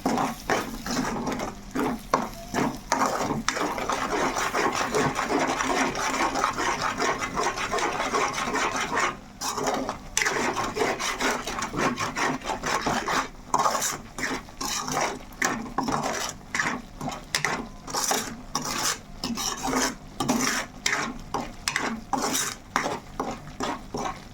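A spoon stirs salt into raw prawn pickle, scraping and clinking steadily against a metal pot for a long stretch, with the clatter growing choppier and more irregular toward the end.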